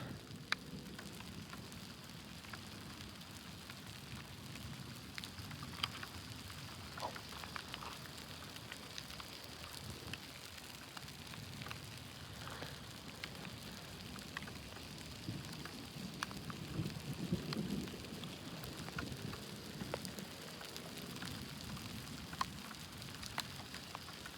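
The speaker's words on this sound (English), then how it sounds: "We need rain bad though." Continuous rainfall from a thunderstorm in the countryside outside Corson, South Dakota hisses and patters nearby, with occasional heavier drops and a faint low rumble, steady throughout and free of speech.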